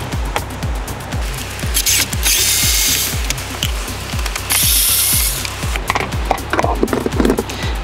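Power driver whirs in short bursts backing out two screws from the radio dash trim of a Toyota FJ Cruiser, with buzzing loudest midway, close up, and no talk.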